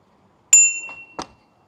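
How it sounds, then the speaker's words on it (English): Bicycle bell on a Finbike U1 e-bike rings out sharply once, then gives a softer second ding, close and alone on a city commuter ride. "Let's try the bell."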